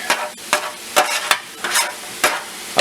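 Shallots, scallions and garlic stirred in a hot pan for onion soup, several sharp rhythmic scraping strokes over a soft sizzle, close and clear, no voices.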